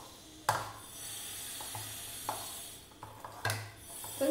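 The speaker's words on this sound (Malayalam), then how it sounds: "ഇത് നല്ലപോലെ മിക്സ് ചെയ്യണം കേട്ടോ." Semolina (rava) being stirred into yogurt for rava vada batter, with scattered scraping and tapping strokes of the utensil against the bowl, a few sharper knocks standing out over a quiet kitchen background.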